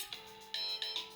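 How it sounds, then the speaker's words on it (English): A phone ringtone chirps in short repeated bursts of bright electronic tones, heard faintly and alone, with no talk over it. "So I apologise for that phone call"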